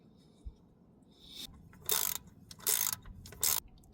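A ratchet tightens the nut back onto a shift lever on a 1999–2006 Chevy Silverado or GMC Sierra pickup, giving three short, bright clicking bursts close by in a quiet workspace.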